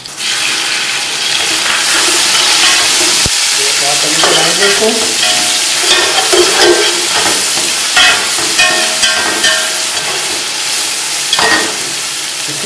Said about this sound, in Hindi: अब इसके अंदर लहसुन अदरक का पेस्ट डाल देंगे।